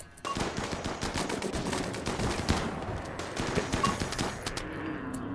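An incinerator flamethrower firing in the RimWorld video game during a Thrumbo hunt, a dense sustained burst of rapid crackling bangs running nearly continuously, loud and close.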